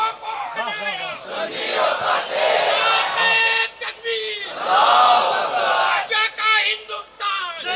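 A large crowd at a religious gathering roars the takbir chant in unison, loud and sustained with rising and falling waves of many voices answering a call.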